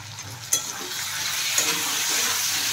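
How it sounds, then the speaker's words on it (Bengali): Potatoes fry in hot oil in a pan at a village kitchen, a steady close sizzle with a couple of sharp clinks, the crackle filling the whole stretch without voices. "দেখো, এবার এটা একটু লাল লাল করে ভাজা হয়ে যাবে আলুটা"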